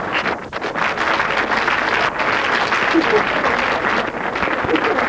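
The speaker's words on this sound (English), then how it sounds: "Give her a round of applause" A studio audience on the Blockbusters quiz show breaks into sustained applause, a dense, steady wash of clapping that holds at an even level throughout with no voices over it.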